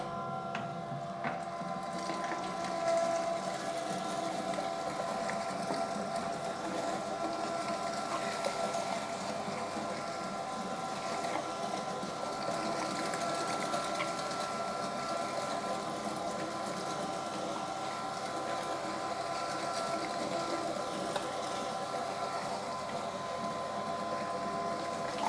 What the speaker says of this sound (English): And now we grind this through the 6mm blades, and that should just give us a nice clean cut